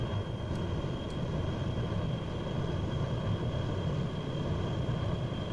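A heavy 251-tonne aircraft in Kerbal Space Program taking off, its engines a steady, dense roar that holds at an even level throughout with no voices.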